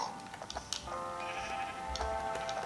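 A sheep in Minecraft bleats in a drawn-out wavering cry, fairly close, with clicking game sounds around it and no talking.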